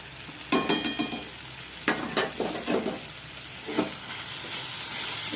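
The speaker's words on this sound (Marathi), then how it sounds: "त्यालाच आपण छान मिक्स करून घेऊ" Tomato chutney with turmeric, chili, salt and sugar being stirred in a hot pan, a steady background sizzle broken by several scraping spoon strokes, close and without talk.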